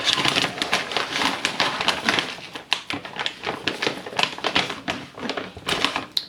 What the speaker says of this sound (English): So 2 cups of rice into the blender,